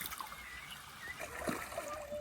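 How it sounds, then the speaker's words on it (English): Fresh spring water trickles at a small desert oasis next to the Dead Sea, a steady close burble with faint splashes running the whole time and nobody speaking. "here is this amazing little oasis next to the Dead Sea, and this is fresh water"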